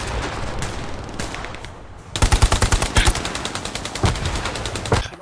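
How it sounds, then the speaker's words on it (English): Rapid machine-gun bursts in the WWII shooter Hell Let Loose, a dense rattling stream of shots that grows louder and closer midway, with a few sharper single reports near the end and no talk. "You're constantly firing on our screen."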